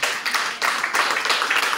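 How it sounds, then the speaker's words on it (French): Congregation clapping in church during a sermon, steady dense applause from many hands, fairly loud and continuous throughout. "Est-ce que tu peux applaudir pour la gloire de Dieu?"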